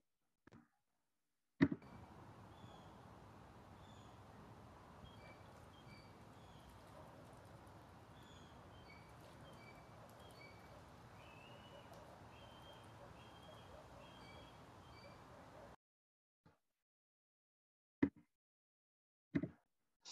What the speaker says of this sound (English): you can hear the little cheep, cheep, tweet, tweet in that video there